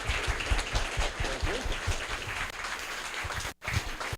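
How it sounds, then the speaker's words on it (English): An audience at a cybersecurity panel discussion gives a round of applause for the panelists. Steady, moderately loud clapping is heard in a hall, broken by a brief dropout near the end. "Let's give a round of applause for the panelists."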